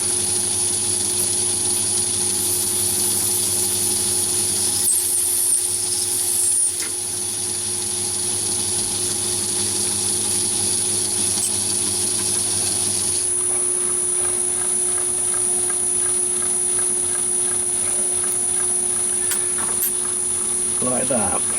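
A CNC lathe parting off a nylon spacer gives a steady mechanical whine with a constant high tone and low hum, shifting slightly partway through as the cut continues, with no talk over it.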